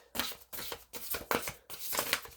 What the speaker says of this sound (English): I like to shuffle my cards.